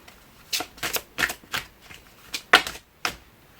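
Tarot cards being shuffled and drawn, a run of crisp papery riffling bursts, about seven short flicks at uneven intervals, close and clear with no talk.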